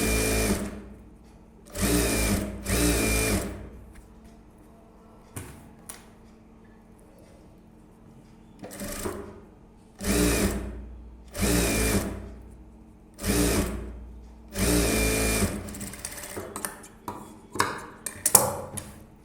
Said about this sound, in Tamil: அந்த லைனிங் பீஸ் வந்து மைல்டாக வெளியில் தெரிகிற மாதிரி நான் தையல் போடுறேன்